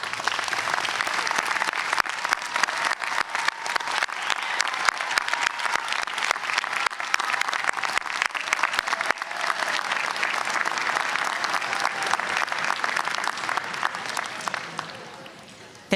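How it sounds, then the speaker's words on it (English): A large audience at a university commencement gives a standing ovation, clapping steadily and loudly for a long stretch, the applause holding even before fading out near the end. "please stand and offer them a standing ovation round of applause"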